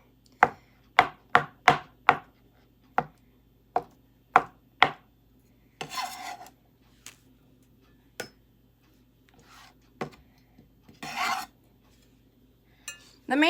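A knife chops boiled egg on a cutting board for a potato egg salad: a quick burst of sharp, evenly spaced taps, then slower scattered chops mixed with brief scraping sweeps, close and clear, with no voices.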